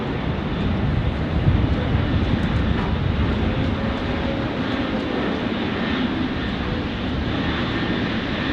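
A United Airlines Boeing 777 taxis at Sydney Airport, a broad steady engine roar, loud and continuous throughout with no pauses.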